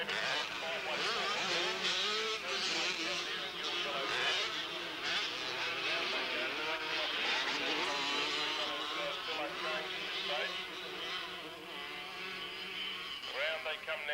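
Junior C-grade 100cc motocross bikes racing at the 1985 Victorian titles, their high-pitched two-stroke engines buzzing and wailing continuously as the pack rounds a section, with a commentator talking over the steady engine roar.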